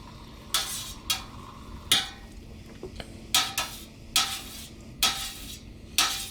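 A pot of milk is stirred with an extra large whisk while making Colby Jack cheese, giving a series of short metallic scraping and clinking strokes, each followed by a brief swish, spaced roughly half a second to a second apart.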